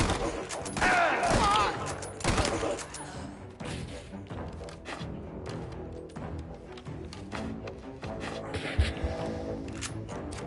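Gunfire in Mafia: The Old Country, with Mauser rifle shots among a dense mix of game shots, thuds and impacts sounding on and off over roughly ten seconds under intermittent speech.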